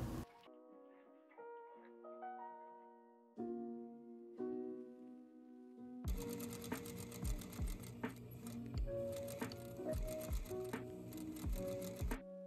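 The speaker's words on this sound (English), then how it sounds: "Repeat this for the other side and sew down that seam allowance to secure." Sewing machine stitching down a seam allowance on a dress, a faint rapid ticking clatter running steadily in the second half beneath soft background music with plucked notes.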